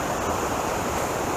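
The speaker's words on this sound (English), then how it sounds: "Got the oxygenated water coming off the weir right there" Water rushes steadily off a river weir, a dense continuous roar close by with no voices over it, by a smallmouth bass fishing hole.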